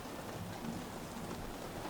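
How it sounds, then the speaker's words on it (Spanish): Steady rain pours down during an indoor church gathering, a dense continuous wash of noise heard faintly and evenly throughout with no talking. "Sí, está lloviendo."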